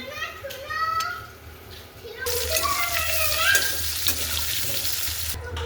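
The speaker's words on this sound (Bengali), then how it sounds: "এখানে টমেটো মটরশুঁটি দিয়ে আমি বাঁধাকপিটা বসিয়েছি" Cabbage with tomato and peas frying in a pan gives a steady broadband sizzle that swells and holds loud through the second half, with a voice and other talk audible in the background early on.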